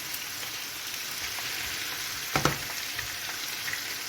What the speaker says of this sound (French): je vais déglacer avec le fond de veau